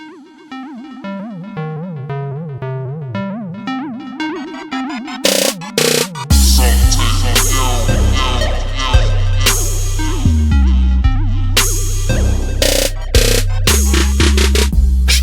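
A dubstep track plays at 114 BPM. It opens with a wavering melodic line, then a loud drop brings heavy sub-bass, pounding drums and gritty, stuttering synth bursts that continue to the end.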